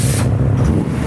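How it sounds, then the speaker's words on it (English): Modified Mazda RX-7 rotary engine idling nearby at a car show, a loud, steady low throbbing drone lasting about a second amid outdoor background noise. "All you can hear is that RX-7."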